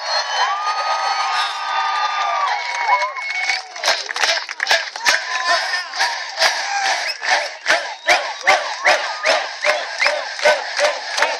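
A large crowd at a Mitt Romney rally in Chesterfield, Virginia, roars and cheers, then breaks into a loud rhythmic chant with steady repeated beats.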